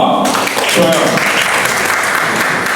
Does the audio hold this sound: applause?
yes